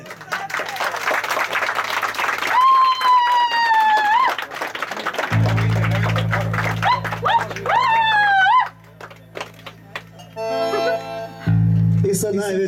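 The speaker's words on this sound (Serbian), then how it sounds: "Aplauz za dvije kume." Wedding guests applaud at a Bosnian wedding celebration, a broad wash of clapping with crowd noise, overlaid by music with a sliding lead melody and a steady low drone; the clapping fades out partway through before the music continues.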